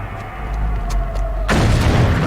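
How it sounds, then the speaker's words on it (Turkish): An explosion in the action game Max Payne 3 erupts suddenly out of a low background hum and becomes a loud, sustained booming roar. "Güzel patladı."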